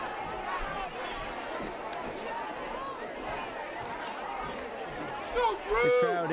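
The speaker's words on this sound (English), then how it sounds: "You could hear a large chant of boos from the Westford Academy side as Concord-Carlisle entered the field." Football crowd in the stands at a high school varsity game between Westford Academy and Concord-Carlisle, a steady dense roar of voices throughout with a louder surge of shouting and booing near the end as the opposing team takes the field.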